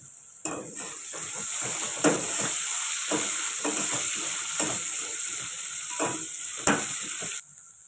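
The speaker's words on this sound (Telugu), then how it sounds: "కొంచెం ఆనియన్స్ ఫ్రై అయిన తర్వాత వేసుకుంటే బాగుంటుంది" Onions frying in a pan as Telegu-style pulao rice is cooked, giving a steady close sizzle with repeated scraping stirs and utensil clinks against the pan throughout.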